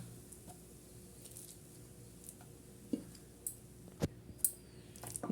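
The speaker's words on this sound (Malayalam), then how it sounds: "ഉരുളക്കിഴങ്ങ് പൊടിച്ച് വെച്ചിട്ടില്ലേ അതിട്ട് കൊടുക്കാം കേട്ടോ" Mashed potato is stirred into a broccoli cutlet mixture in a pan with the flame off, making soft, sparse squishes and scattered spoon clicks against the pan over a quiet background.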